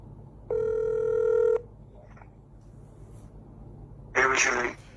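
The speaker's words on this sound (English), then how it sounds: "Let's get him on the phone," A telephone call placed on speakerphone rings with one steady electronic ring tone lasting about a second. A short, bright burst follows near the end.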